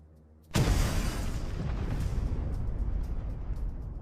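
A loud explosion rips through a building in a drama scene, erupting suddenly as a sharp boom that settles into a sustained, rumbling roar of debris and fire with no voices.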